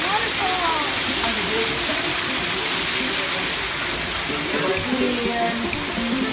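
A waterfall at the Cebu Westown Lagoon water park roars as a dense, constant wash of falling water, loud and close, with voices faintly audible beneath it.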